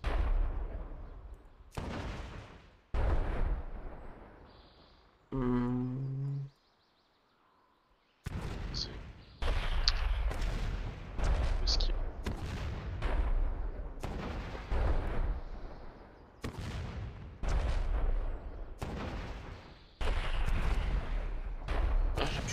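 Cannon fire in World of Warcraft, a rapid series of loud, close booming blasts that repeat in irregular bursts, broken by a short musical game cue and a brief silent gap.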